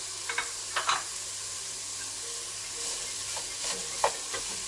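Vegetables and spring onion are stir-fried in a pan for fried rice, a steady sizzle under repeated scraping and clattering strokes of a spatula, close and moderately loud.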